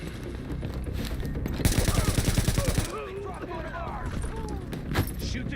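Automatic gunfire in the video game The Division, a rapid, loud burst of shots in the middle with talk and scattered game sounds before and after.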